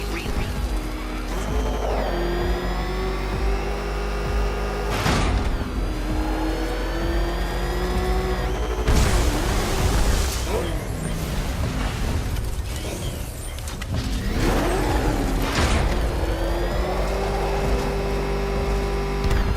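The Batmobile roars through Batman: Arkham Knight, its engine revving loudly and continuously with repeated surges of acceleration and whooshing bursts as it drives, a faint voice occasionally underneath.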